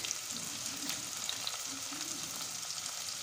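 Cumin seeds sizzle steadily in hot oil with cinnamon and cardamom, a continuous close frying crackle in a pressure cooker for mutton curry, with no voice.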